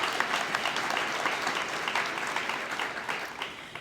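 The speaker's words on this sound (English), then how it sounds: "So applaud yourselves, because you did it" Dense, steady applause from a large audience at a breast cancer symposium fundraiser, continuous and fairly loud for the whole stretch with no voices rising above it.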